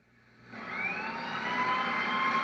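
Emergency vehicle sirens responding to a call about a child locked in a car trunk, rising out of quiet and holding steady as a loud, continuous wailing tone with traffic noise beneath, growing nearer.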